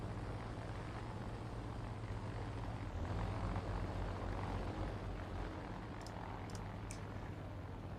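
A propeller plane engine in the combat flight game War Thunder drones loudly and steadily for several seconds, holding a constant throbbing roar with a slight shift partway through.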